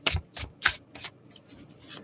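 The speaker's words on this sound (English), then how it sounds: "let me shuffle again" Tarot cards are shuffled in several quick riffling bursts, close and crisp, with a softer run of shuffling at the end.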